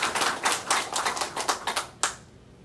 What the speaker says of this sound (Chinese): 我们还是要给他们这几位同仁掌声鼓励一下